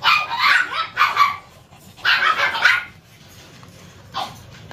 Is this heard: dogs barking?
yes